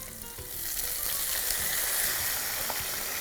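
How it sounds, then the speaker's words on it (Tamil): Water sprinkled onto sweet potato frying in a pan sets off a loud, continuous sizzle and crackle that swells quickly and then holds steady, with no voices. "இதில் கொஞ்சம் தண்ணி தெளிச்சிக்கலாம்."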